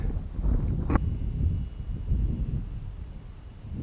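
Rough, buffeting wind noise at an RC plane flying field rumbles across the microphone throughout, surging in gusts with a brief sharp knock near the start.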